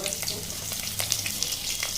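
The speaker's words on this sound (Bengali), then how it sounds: "পেঁয়াজগুলো হালকা লাল লাল করে ভাজা করে নেব।" Finely chopped onions fry in hot oil for a Bengali egg korma, giving a steady, close sizzle with soft stirring scrapes throughout and no talking.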